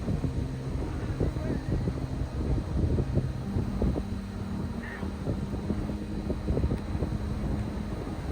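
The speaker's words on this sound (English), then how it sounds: "it really is windy today" Steady wind on the Lake Michigan shore buffets the microphone with a constant rumble and gusty thumps throughout, while muffled voices come and go underneath.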